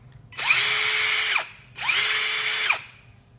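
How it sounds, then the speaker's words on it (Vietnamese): A Ryobi brushless hammer drill runs in two loud free-spinning bursts of about a second each, winding up to a steady whine and spinning down, with a short gap between them and no talking. "Khoan."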